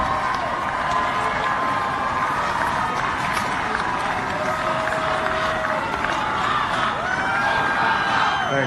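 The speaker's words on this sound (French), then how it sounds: "Vous entendez la foule scander." A huge outdoor crowd at Barack Obama's 2009 presidential inauguration roars and cheers in a dense, continuous wash, with chanting and scattered shouts blended into the loud, unbroken din.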